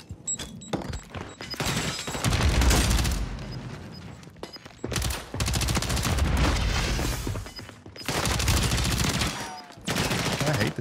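Gunfire in the shooter Warzone: dense automatic bursts and rapid shots in several loud clusters separated by brief pauses, close and harsh.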